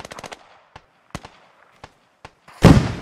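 A BTR armored vehicle firing in the Squad military video game: a rapid burst of sharp shots, then scattered single cracks at a distance, ending in a loud close blast.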